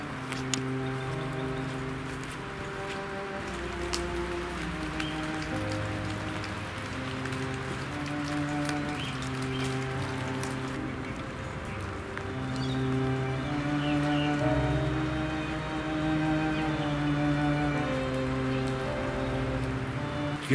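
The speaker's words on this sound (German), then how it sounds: "Den ganzen Tag soll es heute Regen geben." Steady rain falls all day around an abandoned military cinema, a continuous dense patter of drops on surfaces, even and unbroken, with no talk.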